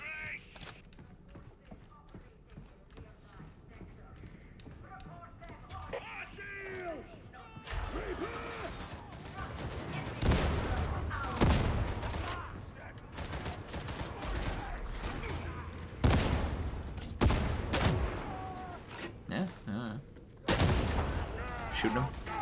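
Gunfire in the shooter game Warhammer 40,000: Darktide, repeated loud sharp shots in irregular bursts mixed with game effects, with someone talking between and over them.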